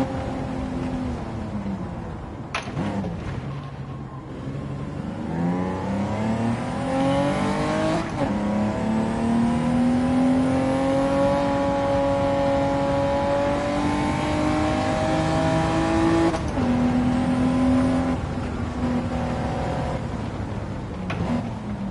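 Race cars in Gran Turismo 7 rev and accelerate continuously, engine tones climbing and shifting as they overtake, loud and close throughout with no speech.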